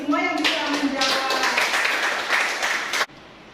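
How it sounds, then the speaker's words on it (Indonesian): A class of children in a school classroom claps for classmates who answered, a brief voice giving way to about two and a half seconds of dense, close clapping that stops abruptly. "Tepuk tangan bagi semua yang bisa menjawab."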